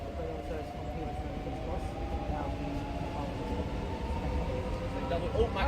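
A Class 365 electric train departs Hitchin station on the East Coast Main Line, a steady low rumble and whine with faint tonal hum, moderately distant and continuous throughout.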